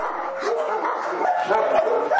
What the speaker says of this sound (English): Some still have the energy to bark, others have long given up.